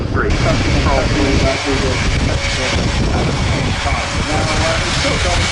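A jet aircraft, the IDS version, passing at the RAF Fairford air show, a loud, steady, broadband engine roar that holds throughout, with a faint rising whine near the start.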